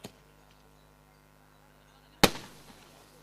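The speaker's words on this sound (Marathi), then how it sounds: "फटाक्यांची आतिषबाजी पुन्हा एकदा आपल्याला पाहायला मिळते." Fireworks go off at a local cricket tournament, one sharp loud bang ringing out with a decaying crackle after a quiet stretch, a faint pop at the very start.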